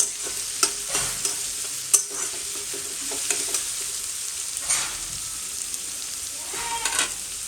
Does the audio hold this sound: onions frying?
yes